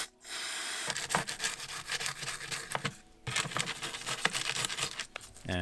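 Vintage Peugeot road bike headset bearings being scrubbed with degreaser: close, steady rubbing and brushing strokes with brief pauses, gritty and scratchy, no talk.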